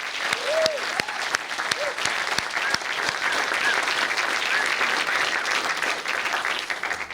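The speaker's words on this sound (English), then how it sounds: "Let's give them a big round of applause." Warm applause from a film festival awards audience, steady and full with a few sharper individual claps and brief cheers or whoops near the start.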